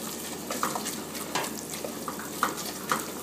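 A butter-and-flour roux for Czech dill sauce bubbles gently in a pan over lowered heat, soft popping blips recurring irregularly above a low, steady simmering hiss, quiet and close.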